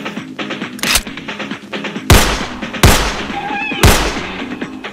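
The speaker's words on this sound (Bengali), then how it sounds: "এদিক থেকে কেন জানি গুলির শব্দ আসতেছে" Four sharp gunshots ring out at irregular intervals, loud and close, each followed by a brief echoing tail over a quiet background.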